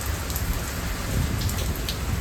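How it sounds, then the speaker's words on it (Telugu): Heavy rain pours steadily onto a tin or metal surface, a dense continuous patter close by with no voices, a strong downpour rather than ordinary rain. "చూడండి ఏమంతన వస్తుందో రెయిన్ అసలు."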